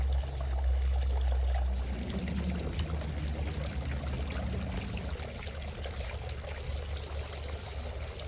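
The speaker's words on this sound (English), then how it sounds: "having loud water in the garden really makes this area feel so much more serene and peaceful" Water pours and trickles steadily from a feature in a cottage garden, close and continuous, strongest at the start and then settling into an even flow.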